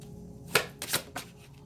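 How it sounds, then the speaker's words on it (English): Tarot cards being shuffled and pulled, giving a few short papery riffles and slaps close by in a quiet room, with no one talking. "I'm going to pull cards and clarify"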